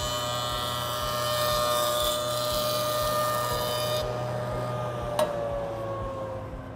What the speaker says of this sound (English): So first, let's join it. It'll usually take one or two passes.